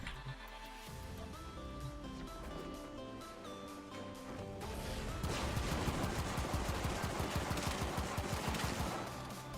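Rapid gunfire from a secondary weapon in Warframe, a fast run of sharp shots that grows denser and louder midway, with game music and effects underneath.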